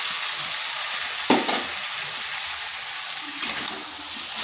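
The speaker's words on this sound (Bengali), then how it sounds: "এরপর এখানে দিয়ে দিচ্ছি আলু আর কুমড়ো যে ভেজে রেখেছিলাম।" Pre-fried potato and pumpkin pieces drop into a pan of cooked tomato and spices, setting off a sustained close sizzle with a couple of louder bursts as they hit and get stirred.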